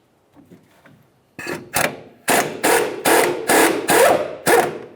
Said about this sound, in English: hold the bolt side with a 19mm wrench and remove the nut with a